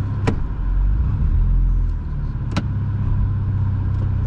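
A Mercedes-Benz E-Class stretched wagon limousine engine gives a steady, deep, close rumble as it pulls away, with two brief clicks over the drone.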